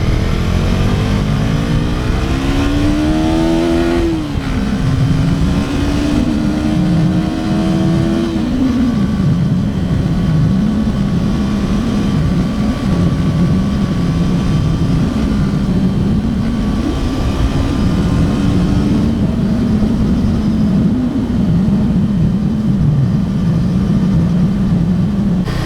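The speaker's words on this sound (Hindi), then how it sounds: "यहाँ पे अब थोड़ा सा खींचते हैं गाड़ी को," A KTM Duke 250 motorcycle with ride-by-wire throttle accelerates hard, its engine note climbing through revs, dropping at a gear change, then holding a loud steady drone with wind rush for a sustained ride, close and continuous.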